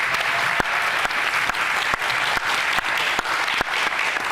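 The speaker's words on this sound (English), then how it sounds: "Give yourselves a warm round of applause." A town hall audience applauds warmly, a continuous dense wash of clapping from a sizable crowd that holds steady and loud throughout, with a few sharper individual claps standing out.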